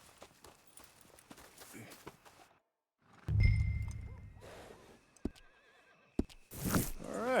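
Horse in Red Dead Redemption 2 with hooves clopping on the ground, mixed with a loud whinny and snorting, close by and in uneven bursts with short pauses between.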